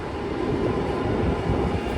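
A German ICE high-speed train runs through a busy railway tunnel station, producing a steady, loud rumbling roar of wheels and rolling stock that continues unbroken for the whole moment.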